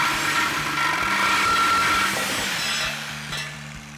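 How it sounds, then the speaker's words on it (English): A Sawzall reciprocating saw cuts through a metal exhaust pipe at the muffler inlet of a RAM 1500, a loud, steady buzzing rasp close by that eases off slightly toward the end. "now we're gonna use our Sawzall to cut our inlet side off"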